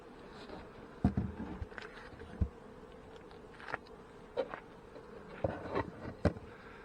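Honey bees buzz softly around an open hive on a trip to a fireweed area, with scattered knocks and taps of hive boxes and lids breaking through the faint, steady drone.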